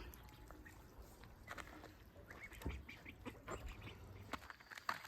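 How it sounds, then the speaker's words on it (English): Ducks kept on a homestead in Oaxaca quacking, faint scattered calls among outdoor rustling and light ambient noise, low in level throughout. "there is an update on Jay's ducks"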